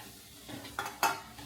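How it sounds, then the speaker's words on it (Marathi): Grated coconut and jaggery are stirred in a metal pot, with a few distinct scraping strokes of a spoon against the pan over a soft background, fairly quiet and close. "पातेल्यामध्ये ना गूळ आणि खोबरं घातलं आहे आणि ते व्यवस्थित छान मिक्स करायचं"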